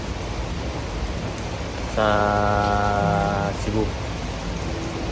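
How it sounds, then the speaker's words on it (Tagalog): Heavy rain falling in Bohol as a typhoon nears, a steady broad wash throughout with a person speaking for a short stretch partway through. "Ayan, medyo malakas-lakas na yung ulan."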